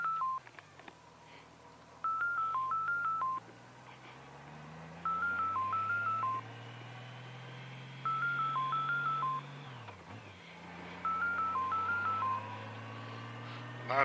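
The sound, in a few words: phone ringing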